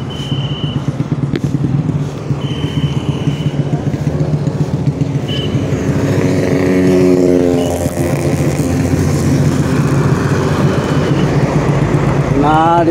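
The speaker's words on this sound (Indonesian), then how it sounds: "karena kendaraan sangat kencang sekali" Fast road traffic on the Pantura road in Losari, Cirebon: loud continuous engine roar from passing cars and motorcycles, vehicles whooshing by close, a horn near the start, with a voice talking over it.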